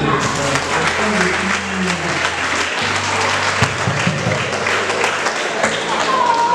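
Audience at a school awards ceremony for top-performing schools claps steadily for several seconds, while a voice speaks over the applause and low thumps sound in the background.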